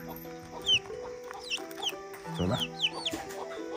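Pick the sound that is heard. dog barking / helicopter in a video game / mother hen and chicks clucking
mother hen and chicks clucking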